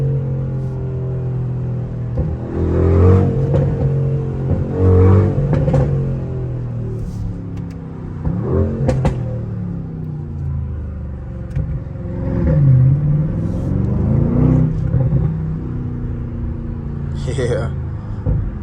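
A Mercedes-AMG GLE 63S with a custom exhaust rumbles steadily at close range, its low engine drone swelling in a few brief surges, heard mostly under ongoing conversation inside the cabin.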